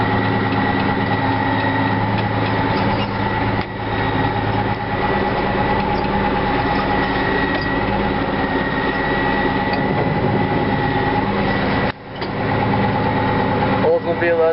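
A Case 2290 tractor with a Case 504 engine idles after a cold start, a steady, loud, close diesel rumble with a fixed whining hum, running unbroken apart from two brief dips.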